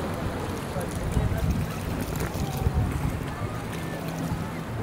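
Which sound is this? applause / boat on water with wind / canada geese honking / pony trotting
boat on water with wind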